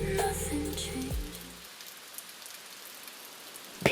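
Peaceful rain falls on a Tokyo night, a soft, even hiss that continues alone after sustained musical tones fade out early on.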